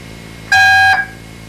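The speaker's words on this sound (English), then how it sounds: "The B tone is called the flash override priority" A single extra touch-tone telephone B tone, the flash override priority signal, sounds as a loud, steady dual-pitch beep lasting about half a second against faint background hiss.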